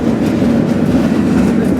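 A slow freight train rolls under 30 mph, heard from inside an open gondola car on the Denver to Salina line, with a loud, constant low rumble and rattle and faint rhythmic rail clatter.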